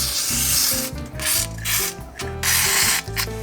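WD-40 sprayed onto a stuck subframe bolt on a Holden VX Commodore, heard as loud close hissing bursts over a low mechanical whir in a garage.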